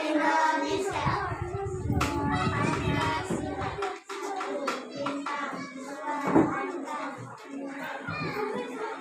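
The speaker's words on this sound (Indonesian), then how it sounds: "Terima kasih dari kelompok 5 kita tepuk tangan." Schoolchildren clap their hands together in a classroom, an uneven burst of nearby claps mixed with children's chatter and a teacher's voice.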